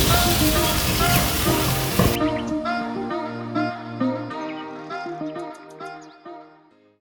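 Masala sautéing in a pan for beef coconut dry fry, a loud broadband sizzle for the first two seconds that drops to a softer, crackling fizz fading out toward the end.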